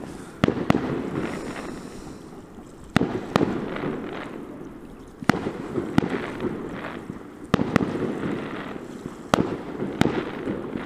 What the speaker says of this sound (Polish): Fajerwerków na 11 listopada.